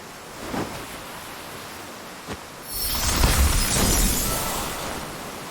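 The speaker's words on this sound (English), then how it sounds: "Storm of ice, arise." An ice spell in the game Octopath Traveler II forms an ice boat: a soft rustling swell gives way to a sudden crackling, shattering burst of freezing ice that then roars on as a broad, loud rush.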